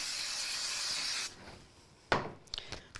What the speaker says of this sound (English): I'm just going to do a quick spray